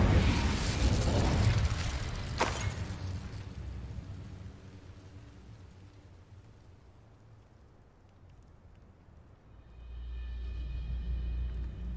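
Incendio fire spell cast in Hogwarts Legacy, a loud burst of roaring flame with a sharp crack that fades into a low rumble before a deeper whooshing swell returns, no talk.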